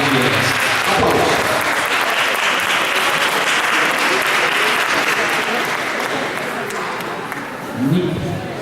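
An audience at a ballroom dance competition breaks into sustained, dense applause for the competitors before the Viennese waltz. The clapping is loud and continuous, eases slightly near the end, and a voice speaks briefly over it.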